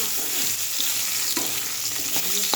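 Cut potatoes frying in a pan with ginger-garlic paste, a continuous close sizzle broken by several scraping stirs and clinks, no voices.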